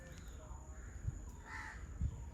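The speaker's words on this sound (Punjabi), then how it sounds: "ਦੂਰ ਦੂਰ ਤੱਕ ਪੰਛੀਆਂ ਦੀ ਚਹਿਚਹਾਟ" Faint birds call in the distance at Harike Wildlife Sanctuary by a lake in Punjab, a couple of harsh caws standing out over soft ambient background noise.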